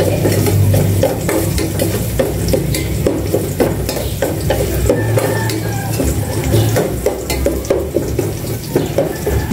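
Garlic sautés in a hot pan, making a loud continuous sizzle with a spatula scraping and stirring in a steady rhythm the whole time and no talking.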